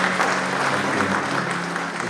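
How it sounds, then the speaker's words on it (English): Mourners at a memorial gathering break into steady applause, a dense even patter of many hands clapping throughout, with no speech. "Let's celebrate with a clap."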